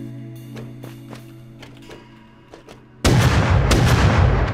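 Gunshots in the survival game Rust: a string of sharp single shots spaced irregularly, then a sudden loud, sustained burst of heavy firing or blast noise filling the last part, with no talk.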